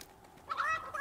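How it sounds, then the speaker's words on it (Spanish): A rooster in the Fortnite no-build mode gives a single loud, harsh crow with a rising, strained call lasting about half a second, standing alone without talk. "¿Un gallo? ¿En serio?"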